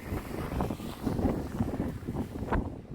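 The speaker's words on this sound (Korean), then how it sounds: "미적지근한 바람이 불고 있네요" Gusty, mild wind at a seaside harbor rumbles and buffets the microphone, rising and falling in uneven waves with no voices.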